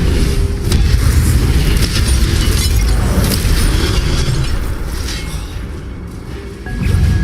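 A fire spell cast in Hogwarts Legacy bursts out with a loud, dense roar and crackle, holding steady for several seconds before dipping and then flaring up again at the end.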